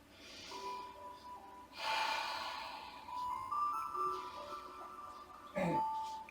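Slow breaths in and out during a yoga stretch, soft airy inhales and exhales in a few long swells, with faint tones and a sharper breath near the end.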